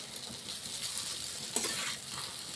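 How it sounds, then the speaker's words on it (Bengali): Okra frying with spices in a pan gives a steady, moderately loud sizzle, with a faint stir or scrape partway through and no voices. "ঠিক 1 থেকে 2 মিনিটের মতন আমরা ঢ্যাঁড়সের সাথে সব মশলাগুলো আমরা ভেজে নিয়েছি।"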